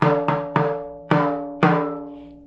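Five resonant pitched drum strikes in an uneven rhythm, each ringing and slowly fading, close and clear with no voices.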